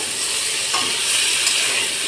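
Chicken pieces and vegetables fry in a hot pan with a loud, steady sizzle and hiss, a brief stirring scrape partway through, close and without talk.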